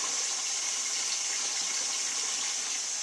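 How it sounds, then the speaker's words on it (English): Hot water runs steadily from the drain valve of an Ariston water heater during servicing, a constant close rushing gush with no voices over it. "Now you want to run probably a couple of gallons worth, at least until the water starts to run clear."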